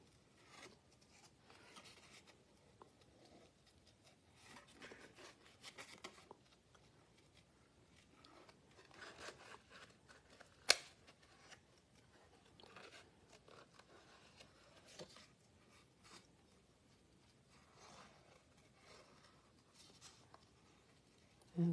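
Scissors snip through paper for card fronts, with soft rustling as the paper is turned during cutting; the faint, irregular snips and scrapes run quietly for about twenty seconds with one sharp click.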